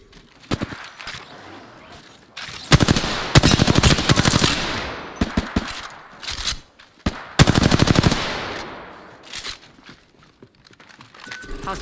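Automatic gunfire in the Apex Legends video game, coming in several loud, rapid bursts of close shots with short gaps between them and a scattered single shot near the end, no talk over it.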